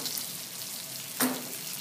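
Pre-cooked potatoes sizzle on a Blackstone griddle as a bacon press smashes them, a faint steady frying hiss with one brief sharp press-and-sizzle burst near the end.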